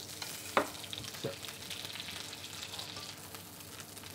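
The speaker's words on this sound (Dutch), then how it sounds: "Kijk, je ziet het vet eruit bakken." Duck skin frying in its own rendered fat in a pan over moderate heat gives a steady close-up sizzle and crackle, with a couple of sharper pops near the start and a brief spoken word.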